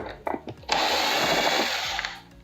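Power screwdriver removing screws from the back of a robotic lawnmower above the crash sensors during winter servicing, a brief tap and click followed by a steady whirring drive of more than a second that winds down, close and loud.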